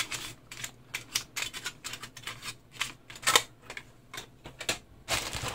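A knife slices open a mail package with rapid close scratchy strokes in uneven bursts, the plastic and cardboard crackling sharply, with no voices.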